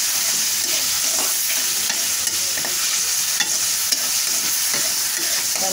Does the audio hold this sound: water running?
no